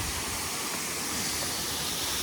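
A waterfall near Mount Bromo in Indonesia roars as a dense, steady rush of falling water, loud and unbroken from start to finish with no voices.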